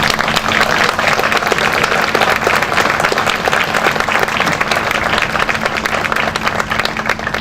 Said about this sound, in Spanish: yo quiero pedir un aplauso para Chantal